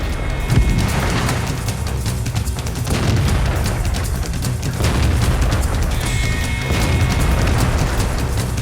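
A Skoda T50 tank's autoloader fires in World of Tanks, amid a dense, loud wall of booming blasts and low rumble that carries on without pause across the whole stretch.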